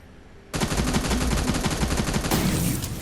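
A gun in the video game Terminator Resistance opens up after a short quiet moment, then fires a loud, rapid, unbroken burst of automatic shots to the end.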